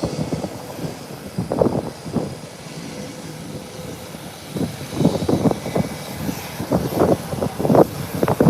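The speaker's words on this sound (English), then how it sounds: "here the Beechcraft 1900 being taxied out" A Beechcraft 1900 turboprop airplane taxis at an airport, its engine hum rising and falling in uneven surges at moderate distance, with no talking.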